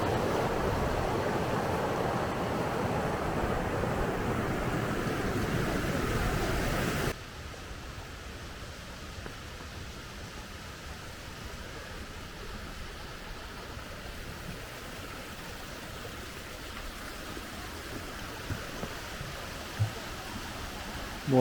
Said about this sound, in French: On n'a pas quitté l'eau, les cascades, les torrents depuis qu'on est parti.